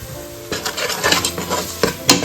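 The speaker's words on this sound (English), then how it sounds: "Give a quick stir." Turmeric, coriander and chili powders sizzle in a hot pan while a spoon stirs them, with a few scraping clinks against the pan and a steady frying hiss, close up.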